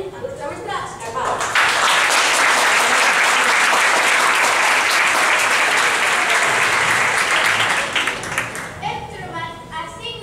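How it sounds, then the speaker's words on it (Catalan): An audience applauds at a primary school class play, with dense, sustained clapping lasting about six seconds and voices speaking just before and after it. "un fort aplaudiment al nostre mestre Escapar"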